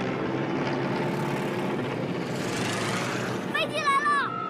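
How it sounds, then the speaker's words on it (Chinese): A steady engine drone from approaching Japanese enemy aircraft over a Xuzhou battlefield in a Chinese war drama swells gradually, then a voice cries out near the end. "飞机来了，快跑啊！"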